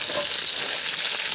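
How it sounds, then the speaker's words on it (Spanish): Chorizo and bacon frying in a pan, a dense close crackling sizzle that holds steady for a brief moment, with no one speaking. "Como el chorizo ya está bien doradito, le voy a poner al tocino que saqué."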